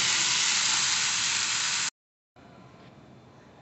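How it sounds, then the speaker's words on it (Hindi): Lentils sizzle and fry loudly in hot oil with spices for a couple of seconds, then cut to silence before a quieter, softer hiss resumes. "दाल मैंने फ्राई कर लिया है"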